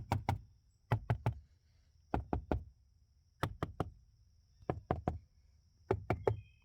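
Tapping on a car door panel fitted with sound-deadening insulation, heard close up: crisp dull knocks in quick groups of two or three, repeated at steady intervals with quiet pauses between and no talk.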